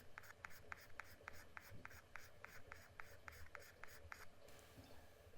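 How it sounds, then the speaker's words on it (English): A watercolour pencil drawn lightly across paper gives a faint, soft scratching in a steady series of short, evenly spaced strokes, quiet and alone, ending near the close. "Here I'm pressing lightly with the watercolour pencil."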